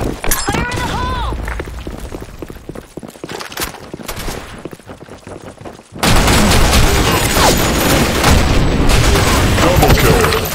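Explosions and gunfire from a multiplayer shooter game: scattered shots and impacts, then a sudden loud blast that gives way to sustained, dense firing until the end.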